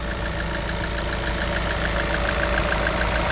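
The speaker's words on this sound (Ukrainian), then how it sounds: "Послухайте, як працює двигун." A 2020 rear-wheel-drive VW Crafter van's engine idles steadily up close, a constant low drone with a faint rhythmic ticking running through it, no voices.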